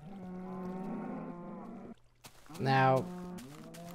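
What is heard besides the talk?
cows mooing, from video game Minecraft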